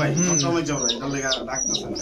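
Several pigeons call close by, mixing throaty coos with sharper chirping notes in overlapping bursts, loud and continuous, with no talking.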